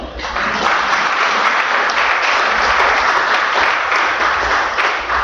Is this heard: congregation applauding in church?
yes